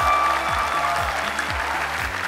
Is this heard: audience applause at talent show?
yes